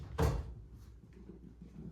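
A wooden drawer that fits badly in an old historic inn scrapes and thumps once sharply at the start, then quiet room tone with faint shuffling follows.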